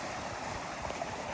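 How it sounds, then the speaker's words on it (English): A waterfall heard from a trail near Franklin, a soft, steady broadband rush of falling water at a distance, faint and continuous without breaks or voices. "There's a nice waterfall."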